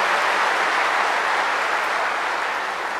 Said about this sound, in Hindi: हम जोर से ताली बजा करके फिर भी बहन जी का अभिनंदन करेंगे